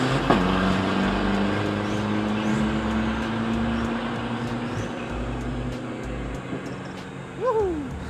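Diesel pickup trucks, a remapped Mitsubishi Strada, a Toyota Hilux and a Nissan Navara, launching in a Philippine drag race: a steady low engine drone with a rising whine, a brief surge near the end, and faint voices in the background.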